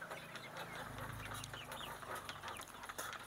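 Laying hens cluck softly in a backyard coop, with a few scattered calls over a faint, steady farmyard background.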